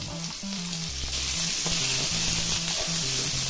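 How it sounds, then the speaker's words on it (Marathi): Mixed vegetables, with carrots to follow, sautéing in a pan for a Kolhapuri-style dish, giving a steady close sizzle and frying crackle with no talk, while a low background tone hums throughout. "भाज्या घालून थोड्या परतून घ्यायच्या।"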